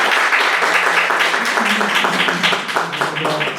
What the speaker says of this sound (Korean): 두 분께 다시 한번 뜨거운 박수 부탁드리겠습니다.